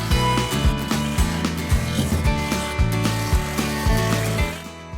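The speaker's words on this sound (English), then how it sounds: "it's cutting through these little branches, no problem" A 20V cordless hedge trimmer buzzes up close, its blades chattering in quick, repeated bursts as it snips through small branches.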